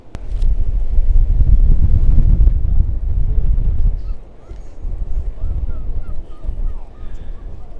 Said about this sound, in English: It is very windy out here at the minute